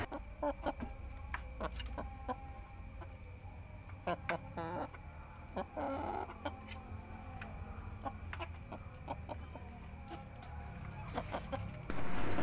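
Chickens cluck and squawk in short bursts over a steady chorus of chirping crickets, with an occasional voice in the background.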